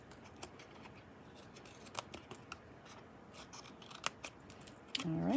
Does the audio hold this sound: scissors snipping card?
yes